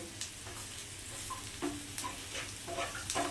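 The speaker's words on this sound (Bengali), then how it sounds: "আমার কিন্তু উচ্ছেটা প্রায় ভাজা হয়ে এসছে।" Bitter gourd frying in a pan, a quiet steady sizzle of hot oil with occasional soft clicks and scrapes as the pieces are stirred.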